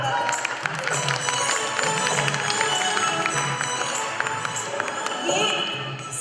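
A devotional singing gathering of a Khatu Shyam mitra mandal in Kolhapur, where an audience claps steadily for the singers, a dense wash of hand claps sustained throughout with music and voices mixed in.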